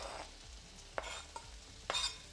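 Onions tossed into a hot pan where bacon is cooking: a low steady sizzle with a few sharp clanks and scrapes of stirring, close and quiet, no voices.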